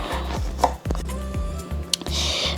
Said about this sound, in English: First I start with the lime to chop them into pieces.